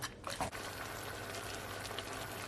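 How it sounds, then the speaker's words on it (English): Jamaican pepper shrimp sauce coming to a boil in a pot, a steady close bubbling hiss with a brief louder stir or pour near the start, no talking. "as you can see, it started to boil up"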